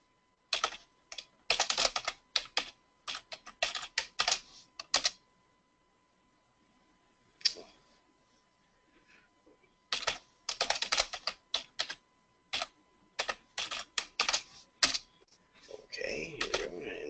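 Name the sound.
typing a password on a computer keyboard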